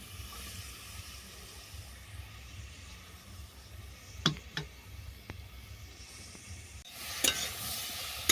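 Chopped green tomatoes frying in a pan for a sweet pickle, a faint steady sizzle with a few sharp stirring scrapes and clicks, growing louder near the end.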